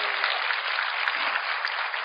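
A church congregation applauds in a steady, dense wash of clapping that holds evenly for the whole stretch, with no pauses.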